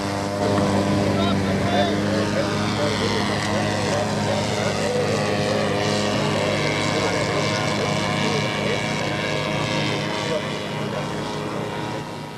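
A model Sopwith triplane weighing 36.5 pounds, powered by a Sachs 3.7 engine, flies at the 1988 Scale Masters competition; its engine drones steadily throughout while a narrator talks over it.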